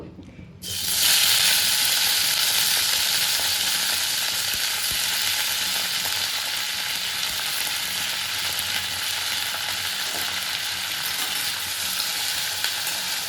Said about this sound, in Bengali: এখানে তেলটা গরম হয়ে গেছে। এবারে আমি এর মধ্যে গোটা মশলা দিয়ে দেব।